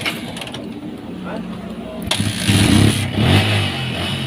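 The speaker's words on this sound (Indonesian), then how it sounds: "di sini di starter kaki bisa hidup, di starter tangan belum bisa hidup" A Yamaha Vixion motorcycle is kick-started: a mechanical clatter of the kick lever comes first, then the engine catches and idles loudly and roughly close by, with a voice speaking beneath it.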